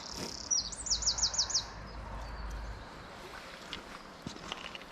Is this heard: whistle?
no